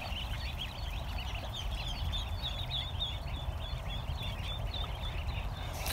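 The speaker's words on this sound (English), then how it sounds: "Adult ducks are doing great." Adult ducks call in a steady, overlapping chorus throughout, a flock kept close by with a constant low rumble of background noise underneath.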